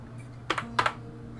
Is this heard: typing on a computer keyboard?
yes